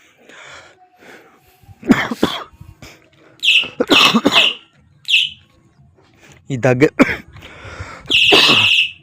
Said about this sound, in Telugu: అలారం చూడండి, మంచిగా ఉన్నది సౌండ్, పిట్టెలు ఊరినట్టు అయితే ఉరుతుంది అనమాట.